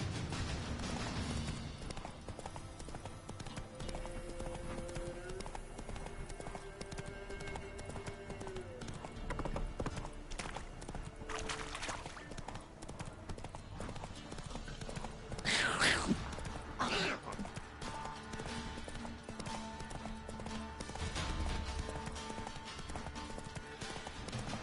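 Roach the horse gallops in The Witcher 3, a long run of close rhythmic hoofbeats with faint game ambience and a brief whooshing swell midway.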